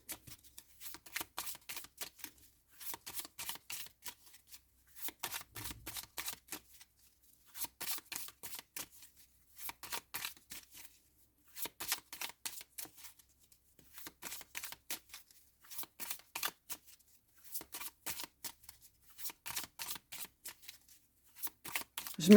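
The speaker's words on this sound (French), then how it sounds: "de mélanger les cartes et d'écouter" Tarot cards shuffled by hand in a quiet room: repeated rapid riffling bursts of a few seconds each, separated by short pauses, crisp and close.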